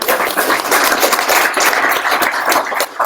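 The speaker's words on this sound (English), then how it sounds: "Round of applause for Haley and Yvonne." Audience applause at a UX apprenticeship event in San Francisco, loud continuous clapping from a room of people, dense and steady throughout before tapering slightly at the end.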